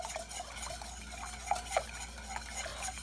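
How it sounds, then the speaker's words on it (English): A whisk stirring ingredients in a mixing bowl, soft continuous swirling with light metallic clinks and a couple of sharper taps against the bowl, fairly quiet and close, no talking. "the reason why I'm using a whisk, so I can be able to blend everything up beautifully"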